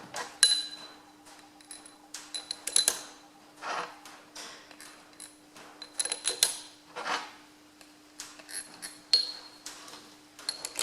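Oiled crown wheel carrier bolts for a Ferguson FE35 differential are dropped into place one after another, giving scattered light metallic clinks and taps at close range, with a steady low hum beneath and no talking.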